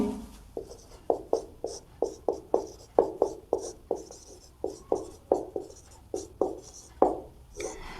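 Pen or marker strokes on a board or paper as a linear programming inequality is rewritten as an equation by hand, a steady run of about twenty short, scratchy strokes in quick rhythm, close and fairly clear, with no talking.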